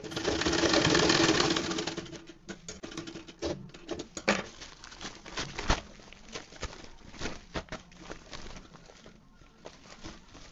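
A sewing machine stitches the corners of a cloth bag sewn from a blouse piece, a close, rapid run of needle clicks and patter that slows and stutters in uneven bursts, with no talking.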